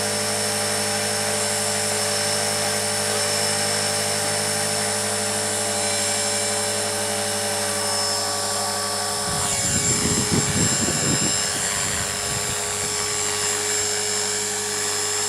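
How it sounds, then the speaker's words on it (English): A radio-controlled helicopter's rotor spins at 85% throttle with idle-up on, a high, steady whine close by, then a burst of rough, rumbling wind noise swells briefly near the end. "it's a lot more stable when those blades are spinning faster"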